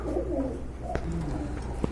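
Pigeons coo in low, soft, rolling murmurs throughout, with a couple of faint clicks in the background.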